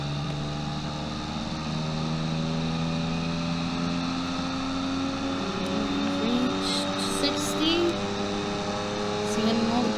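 A simulated car engine in the Automation video game droning at top speed in sixth gear, a steady held tone with stacked harmonics that rises slightly in pitch over the clip, with faint voice in the background.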